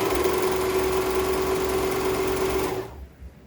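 A serger sewing machine runs fast and loud, stitching an elastic waistband channel with a steady high-speed whirring drone before stopping abruptly.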